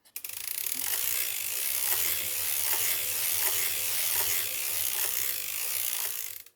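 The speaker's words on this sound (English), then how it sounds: "this is the setting that I'm going to use to crank my entire tube" A circular sock knitting machine is cranked steadily to knit a tube, giving a continuous close-up mechanical whirr with regular ratcheting clicks for about six seconds, with no talking.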